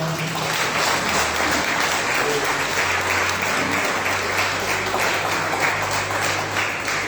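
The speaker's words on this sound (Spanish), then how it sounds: "Den un aplauso al Señor." Church congregation applauding during a worship service, a steady, dense roll of clapping from many people, even and sustained, with a low hum from the hall's sound system beneath it.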